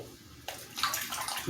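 Water runs from a tap while a razor is rinsed after shaving, a steady hiss that swells louder about halfway through and continues unbroken to the end, with no talking.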